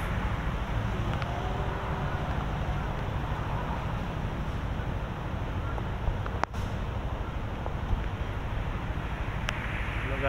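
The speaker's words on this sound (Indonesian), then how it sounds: "angin kencang, petir pun datang" Strong storm wind roars steadily and loudly across the microphone for the whole stretch, a dense rushing noise with a brief thump partway through.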